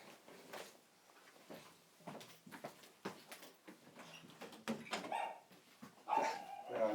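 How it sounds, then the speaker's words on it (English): A dog barks repeatedly in the background of a quiet indoor room, sharp, irregular barks and yips at moderate distance that grow a bit louder toward the end. "I'm sure you can still hear the dog there."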